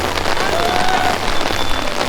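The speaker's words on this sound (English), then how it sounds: "Oh my gosh, look at this rain." Heavy rain pours down outdoors at a Christmas theme park, a dense, steady broadband hiss with scattered patters filling the whole stretch at close range, no voices standing out.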